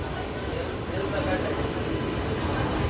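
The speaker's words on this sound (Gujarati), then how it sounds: "જે આ લોકોમોટિવ આવે છે ભાવનગરથી બાંદ્રા સુધી આ ટ્રેનને ખેંચીને લઈ જશે." An electric WAP-5 locomotive from Vadodara pulling a Bhavnagar to Bandra passenger train gives a steady, broad rumble and roar that holds evenly throughout, with faint voices underneath.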